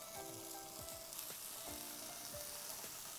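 Bacon sizzles in a pan with no oil over medium heat, a steady close crackle of spitting fat with a few scraping stirs, no voices.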